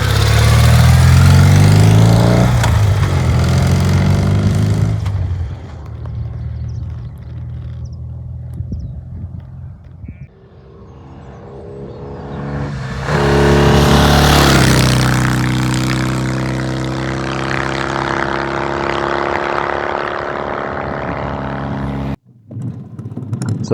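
A 1970s Norton motorcycle engine runs loud and close, revving up and settling back to a rough idle over about twenty seconds, with no voices.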